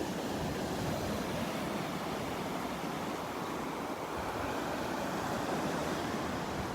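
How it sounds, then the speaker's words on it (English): Small, gentle ocean waves wash steadily onto Vanderbilt Beach, a continuous soft surf wash with light wind across the microphone and no distinct breaking crashes, fairly quiet throughout. "these are nice little waves, but I was expecting a lot more"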